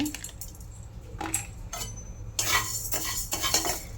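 Utensil stirring and scraping in a kadai while moong dal is dry-roasted, with a few distinct metallic scrapes and clinks, growing busier and louder toward the end over a steady low hum.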